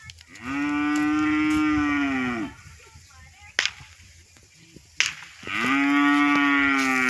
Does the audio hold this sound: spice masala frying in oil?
no